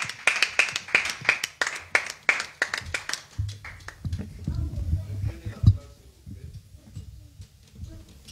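A church congregation claps to acclaim the Lord, sharp rhythmic hand claps in a steady beat for the first few seconds, then fading into a low murmur of voices and scattered taps.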